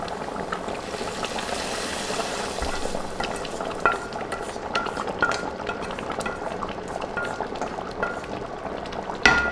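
Beef nihari simmering in a pot as an onion-garlic tempering is stirred in, giving a soft bubbling sizzle with gentle scraping and clinks of a spoon, close by and without speech.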